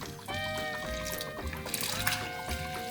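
Water with a spoonful of golden syrup dissolved in it is poured into a bread mix, a steady close trickle and splash lasting a few seconds with faint background noise.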